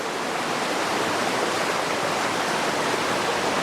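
The East Fork River flows in a steady broadband rush, a constant close wash of moving water with no voices and no change in level.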